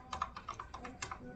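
Rapid keystrokes on a computer keyboard, about eight to ten crisp clicks in an uneven rhythm, close and fairly quiet, with no talking.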